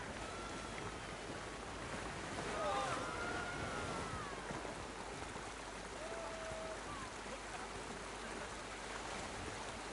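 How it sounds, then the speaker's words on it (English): A water coaster ride in a theme park video game, a steady rush of water and splashing, with a voice talking over it. "Oh, it's a water coaster."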